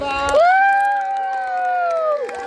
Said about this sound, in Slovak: No a veľký potlesk, lebo na prvom mieste sa umiestnila prvá C.